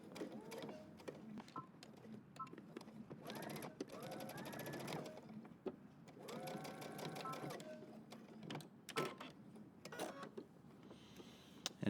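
A sewing machine stitches a denim jacket for the Simplicity 8845 pattern. Two sustained close bursts of rapid mechanical stitching are separated by quieter handling clicks and fabric rustle.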